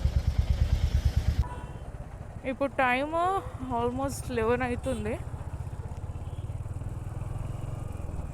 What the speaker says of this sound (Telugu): సో బైక్ పైకి ఎక్కి ఐ విల్ క్యాచ్ యూ